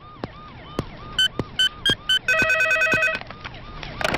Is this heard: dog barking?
no